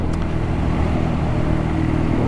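A BMW GS motorcycle fitted with Wilbers suspension rides up a hill, its engine a steady low drone heard from a distance, continuous and even throughout.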